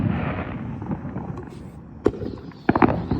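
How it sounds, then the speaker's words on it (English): A Smoke Bomb firework goes off amid steady crackling and hissing, with a sharp pop near the two-second mark and a cluster of louder bangs toward the end, fairly close and moderately loud. "Is that Smoke Bomb?"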